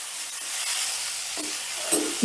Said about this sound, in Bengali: এবারে নুন আর হলুদ দিয়ে বেগুনটাও বেশ লাল লাল করে ভেজে নেব